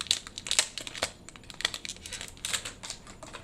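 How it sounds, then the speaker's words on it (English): Crinkling and tearing of a Pokémon Shining Fates card pack wrapper, a quick run of close, crisp plastic crackles and rips coming in irregular bursts, fairly quiet and with no talk. "pack number 4 did not want to be opened"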